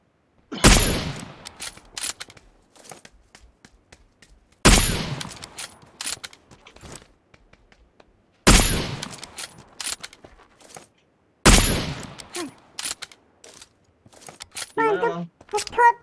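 Bursts of gunfire from the battle royale game PUBG Lite, four sharp volleys spaced a few seconds apart, each with a ringing tail, with a faint voice talking near the end.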